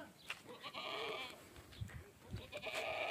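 A Punjabi goat, a large buck at a goat farm in Jodhpur, bleats in a few wavering, nasal calls that carry loud and close, with short gaps between them.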